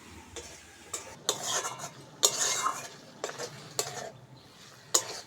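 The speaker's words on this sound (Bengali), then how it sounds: "মশলাটা ভালো করে কষে নেবো" Spice masala being sautéed and stirred in a pan for a spicy egg-and-brinjal curry, with a run of sharp spoon scrapes and clinks against the metal at an irregular rhythm over a faint, steady sizzle, close and fairly quiet.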